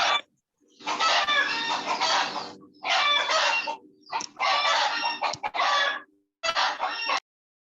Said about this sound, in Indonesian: Ayam siapa tuh?